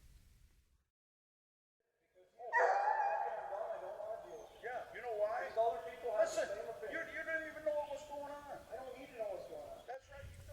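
Distant bear-hunting dogs barking and baying in a forest, a steady chorus of yelps carrying faintly across open space after a short silence.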